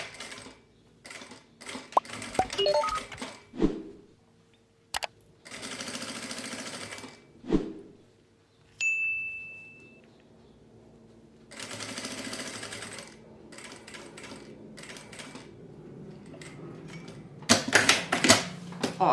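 A domestic sewing machine stitches lace onto a fabric pencil case in several bursts of fast, rattling mechanical chatter, separated by pauses with small handling clicks and a brief tone, close up with no speech.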